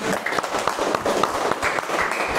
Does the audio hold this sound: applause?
yes